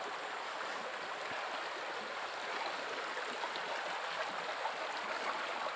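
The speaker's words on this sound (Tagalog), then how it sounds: "maliit na sapa ito mga bro" Small stream flowing as a steady, faint rushing murmur of water, continuous and without talk.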